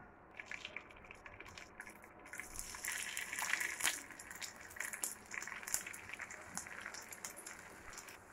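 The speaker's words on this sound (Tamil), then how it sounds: "சேர்த்துட்டு இது கொஞ்ச நேரம் பொரியட்டும்." Bitter gourd pieces frying in hot oil over a medium flame, giving a steady close hiss and crackle that swells and fades throughout, with no talking.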